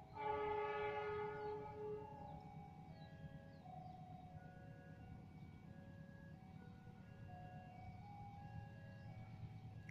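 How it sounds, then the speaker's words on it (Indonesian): A Malabar passenger train pulls into Leles station in Garut, Indonesia, on an overcast day, its loud horn blaring near at the start before a steady rumble of wheels and carriages continues. "Itu dia, kita Malabar baru saja masuk ke stasiun Leles."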